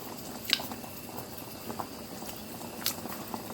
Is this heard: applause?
no